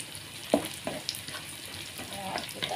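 Anchovies (teri) fry and sizzle in a pan, steady crackling broken by a few louder stirring scrapes and clinks close by.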